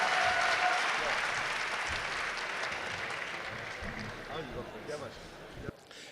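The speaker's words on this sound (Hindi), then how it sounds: "पूरा सदन एक बार जोरदार तालियों" Loud, sustained applause from a mushaira audience greeting poet Popular Meeruthi at an Indore poetry gathering, dense and steady before slowly thinning out, with a voice briefly audible over it.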